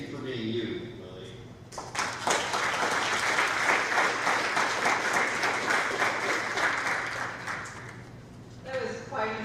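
A school audience bursts into sustained applause for students after a short spoken introduction, the clapping loud and dense for about seven seconds before fading as a voice resumes.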